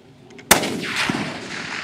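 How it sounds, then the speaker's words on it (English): A single sharp .308 rifle shot with 180 grain match bullets fired at a golf ball 700 yards away outdoors, loud and close, followed by a fading rolling echo. "That was a golf ball at 700 yards, shooting a 308 with a 180 grain match king"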